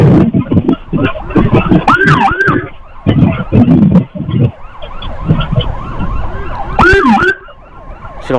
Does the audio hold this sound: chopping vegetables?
no